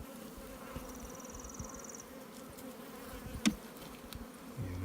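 Honeybees buzz steadily on a hive frame close by, a dense continuous drone with a few louder individual passes and no talk.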